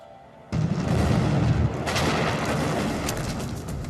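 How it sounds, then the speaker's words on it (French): A powerful underwater explosion, roughly equivalent to five tonnes of TNT, erupts as a sudden loud boom after a brief quiet lead-in, then rolls on as a dense, sustained rumble with no voices. "Elle indique une explosion sous-marine."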